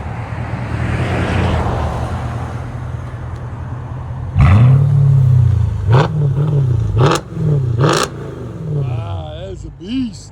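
Straight-piped 2007 Mercedes S550 5.5L V8 with an X-pipe idles with a deep burble, then a series of hard, loud throttle stabs rise and drop back close by, followed by brief chatter near the end.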